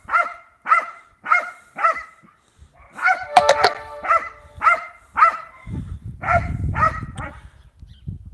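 A dog barks repeatedly in short bursts in a yard, loud and close, with brief pauses between groups of barks and some thumping and rustling.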